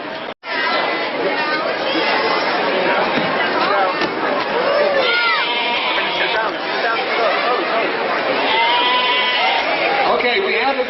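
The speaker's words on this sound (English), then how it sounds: "to the right over here is the Seh, is the sheep" A sheep bleats a few times, wavering and moderately close, at a Pidyon Peter Chamor ceremony in Detroit, under constant crowd chatter and people talking.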